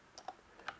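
Typing on a computer keyboard produces three quick, light clicks spaced irregularly in under a second, faint and close, with no talking.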